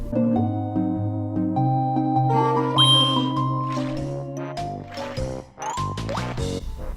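Melodic Banjo-Kazooie video game music with sustained tones and chiming notes, the arrangement shifting partway through between underwater and above-water versions, with a few sharp game effects near the end.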